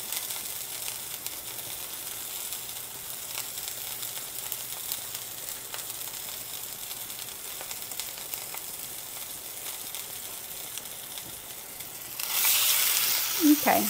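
Thin pieces of food fry in a pan, giving a steady, fairly soft sizzle that swells louder near the end, with a voice talking at times.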